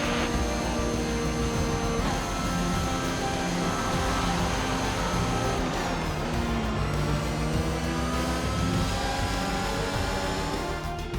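Formula 1 car from F1 2021 driving in after the Spanish Grand Prix, a continuous loud engine whine with shifting pitch as it accelerates and changes gears, with no voices.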